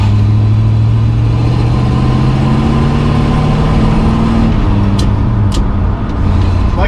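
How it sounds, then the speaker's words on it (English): A 1968 Ford Torino engine running smoothly on a test drive, a steady low droning hum with a gently rising tone, loud and close with no talk. "Like I said, the engine runs very smooth."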